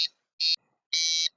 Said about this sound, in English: Now you hear a fire alarm through the system